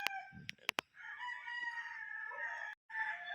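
On a large poultry farm, a rooster crows one long, close, drawn-out call after a few sharp clicks and soft clucks from nearby chickens.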